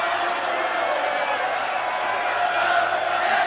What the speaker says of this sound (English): And the crowd turns up the volume.